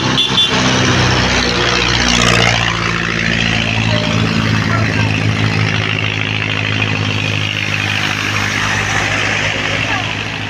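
Loud engine roar of a jeepney passing close by on a street, a steady heavy drone that swells early and stays strong throughout, with a voice speaking over it.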